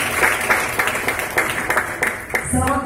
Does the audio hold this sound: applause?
yes